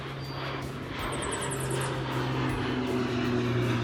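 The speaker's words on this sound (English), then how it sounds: "another plane." A steady low engine drone of an airplane passing overhead near an airport, fairly loud and continuous, with faint birdsong chirping in the background of a vegetable garden.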